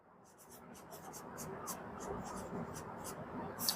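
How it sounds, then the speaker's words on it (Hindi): Writing during a Class 9 maths lesson on number systems: steady scratchy strokes in quick, repeated bursts, close and soft, under a continuous low voice. "तो अपन यहां लिखेंगे"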